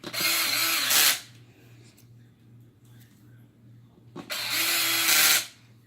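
Power screwdriver driving screws into the lock ring of an RC beadlock wheel, two short whirring bursts about a second long separated by a quiet pause, close up.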